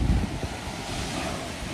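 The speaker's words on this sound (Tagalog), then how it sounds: "So ang lakas nung pagaspas nung dagat." Strong sea surf breaking on the shore at a beach camp in Morong, Bataan, heard as a steady, loud roar of churning water mixed with wind buffeting the microphone, with no voices.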